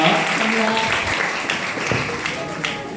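Audience applause at a senior choir's church Christmas concert, a steady wash of many hands clapping in a reverberant hall, continuous and fairly loud throughout.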